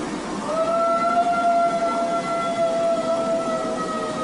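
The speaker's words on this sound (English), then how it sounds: "so I'm wondering if this was just a really old dog trying to howl." An old dog howls at night with a long, steady, wavering tone that holds for several seconds over faint background noise, moderately distant.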